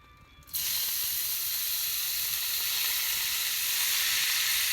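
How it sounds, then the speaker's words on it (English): Chopped onions and peppers for a gumbo hit a hot pan and burst into a loud, steady sizzle that holds without a break, with no talking over it. "put all of my onions and peppers there"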